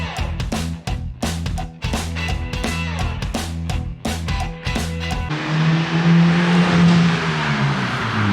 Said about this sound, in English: So now I think I'm gonna test drive.